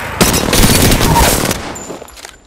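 Loud, dense bursts of rapid gunfire from the Apex Legends video game, a sustained volley that tails off toward the end, no speech over it.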